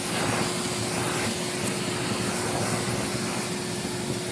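A vacuum cleaner runs steadily while cleaning a suede shoe, a loud continuous whooshing hum with a faint constant whine and no pauses.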